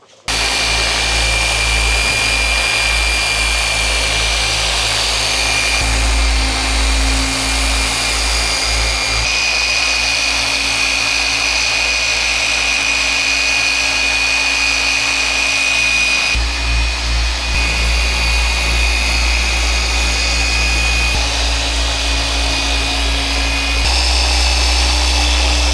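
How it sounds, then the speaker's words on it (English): A power polisher whirs steadily and loudly on the paint of a Bentley GTC Speed during paint correction, holding a continuous droning tone for the whole stretch with small shifts in pitch and no talking. "we're going to start polishing"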